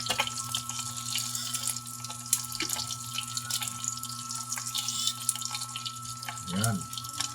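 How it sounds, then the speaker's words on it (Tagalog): A little water is poured into a cooking pan in a home kitchen, a soft trickling splash over a steady background hum. A short swirl near the end, fairly quiet and close. "Dagdagan natin ng konting tubig."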